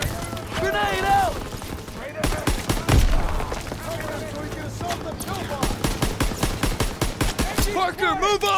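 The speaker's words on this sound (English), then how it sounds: "Daniel, hit the MG pillbox!" Machine gun fire from an MG pillbox in a military shooter video game, sustained rapid bursts of automatic gunfire with explosions, loud and close, mixed with shouted voices and game dialogue throughout.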